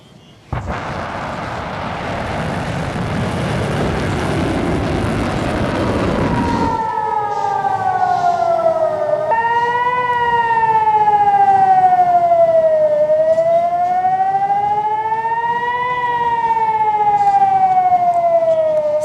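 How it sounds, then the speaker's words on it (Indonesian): A loud rumble gives way to an air raid warning siren in Jerusalem during Iranian missile strikes, wailing and rising and falling slowly and steadily, echoing over an open area with no voices. "membuat sirine peringatan di kota ini kembali berbunyi"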